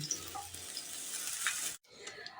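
Steady crackling sizzle of potatoes frying in hot oil, with a brief break near the end before the frying noise resumes, close and fairly loud.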